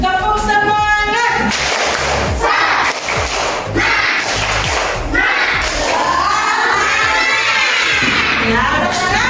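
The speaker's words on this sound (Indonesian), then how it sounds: "Kita tepuk semangat supaya kalian tetap bersemangat, ya." A classroom group stands and performs a rhythmic spirit clap, loud close patterned clapping with thumps and a few shouted voices mixed in, fast bursts repeating in sequence.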